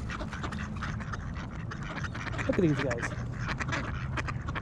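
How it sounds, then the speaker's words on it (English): Ducklings quack softly in a brief cluster of calls amid outdoor background noise, with someone talking close by. "I got ducks."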